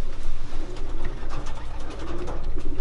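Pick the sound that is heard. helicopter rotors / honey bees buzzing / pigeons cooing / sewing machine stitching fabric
pigeons cooing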